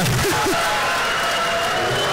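Crowd at a boxing event in the Buckhead Theater, a steady wash of cheering and applause, with a commentator's voice briefly heard near the start.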